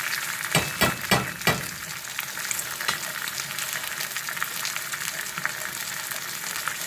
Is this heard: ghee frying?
yes